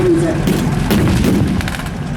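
A 75mm tank gun fires during a World War Two reenactment battle at the War & Peace show, heard as a loud, continuous rumble of battlefield noise with overlapping booms rather than one clean blast.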